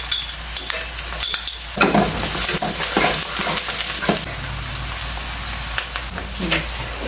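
Onion and garlic sautéing in a pan, with a continuous sizzle broken by irregular scraping and stirring clatter and bright bursts as the pieces are moved.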